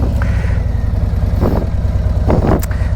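A 2026 Harley-Davidson Road Glide motorcycle, a heavy 380 kg tourer, rumbles steadily while being ridden, its deep loud engine throb continuous with wind noise and a few brief rises in pitch.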